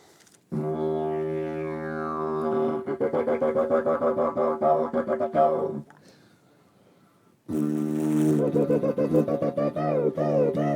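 A didgeridoo imitates a kookaburra call: a buzzing drone overlaid with rapid, chattering, laugh-like vocal pulses, pausing briefly before a second loud burst, close and continuous.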